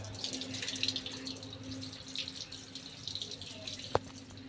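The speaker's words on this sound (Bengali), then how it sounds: "তো চলো এই যে আম কটা ধুয়ে নিই" Mangoes being washed under running tap water, a faint, steady trickle and splash with small, quiet knocks of fruit, and one sharp clunk near the end.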